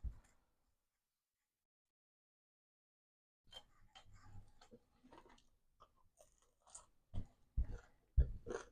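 Close, quiet chewing and crunching of warm rye and Guinness sourdough bread spread with butter, soft irregular bites after a silence, with a few louder crunches toward the end.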